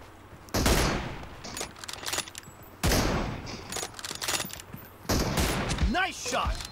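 Loud bursts of gunfire in a mobile shooting game, three separate volleys of rapid shots, each starting abruptly and then tapering, with someone talking at times between them.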